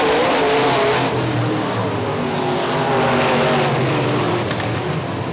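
UMP modified race cars at Hartford Speedway roar past in a loud, continuous pack, engines holding a steady drone with shifting pitch as several cars run close together down the straight.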